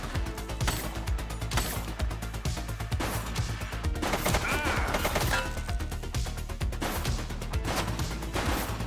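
Gunfire in a police video game: a dense, loud run of sharp shots and crashing impacts keeps going without a break, layered over constant game noise, with no voices.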